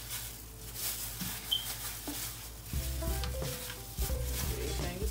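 Honey garlic chicken pieces being rubbed and mixed by hand in a baking dish, a continuous close squelching and patting with soft wet slaps and small clatters, no talk.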